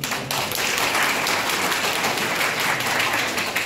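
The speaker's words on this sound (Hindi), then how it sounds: "मैं चाहूँगा स्टूडेंट से कि इन लोगों के लिए आप लोग एक बार जरूर ताली बजाएं" Students at a college student-empowerment event applauding their teachers, a dense, sustained round of clapping from a crowd filling the room, steady and even throughout.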